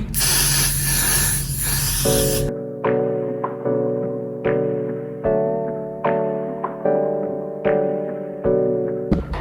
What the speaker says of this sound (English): Next step, we're going to be spraying